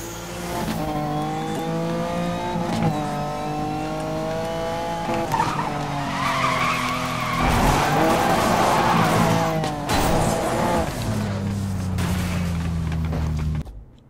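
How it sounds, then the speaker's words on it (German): A car drifts in the Need for Speed Most Wanted video game, its engine droning in steady rising and falling tones while tires squeal and skid loudly through the corners. "Das Auto driftet sich so scheiße"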